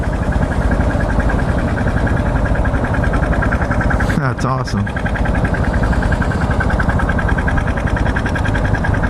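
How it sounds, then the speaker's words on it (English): A loud, steady old John Deere tractor engine chugs close by throughout as it drives through town, with a person briefly speaking over it partway through. "Check this dude coming down on the tractor."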